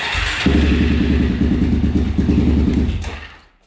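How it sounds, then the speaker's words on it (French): A used quad's cold engine starts on the starter and catches into a loud, close, rough-throbbing idle that runs for a few seconds before cutting off and fading out. "je mets le contact, je mets un coup de démarreur, et au pire des cas, je mettrai un mini coup de gaz"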